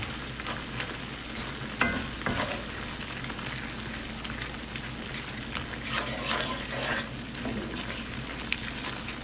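A roux being stirred into liquid for smothered pork chop gravy, a soft steady sizzle and scraping swirl from the pot, fairly quiet and continuous with a few brief clinks, no voices.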